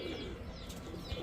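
Kaldam pigeons restless inside a cage, giving soft low cooing and rustling with faint wing flutters, steady and close with no talking.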